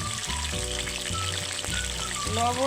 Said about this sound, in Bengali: পটলগুলোকে ভালো করে ভাজতে হবে